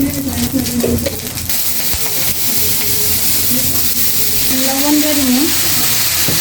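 Fish frying in oil, a loud, dense sizzle and hiss that runs continuously, with a faint tonal whine wavering in the background.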